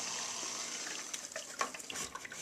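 Water is poured into an AeroGarden Bounty indoor seed-starting unit, a steady close trickle and splash that runs the whole time, with small gurgles and drips breaking through toward the end; no one talks.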